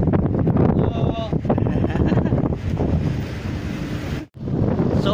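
Strong wind buffets the microphone with a loud, rumbling roar throughout, with faint voices and the wash of water beneath.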